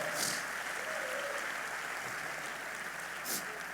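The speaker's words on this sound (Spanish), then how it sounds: "A ver, un aplauso para los abuelitos" A church congregation applauds in a continuous, even patter of many hands heard from a distance, with faint voices underneath.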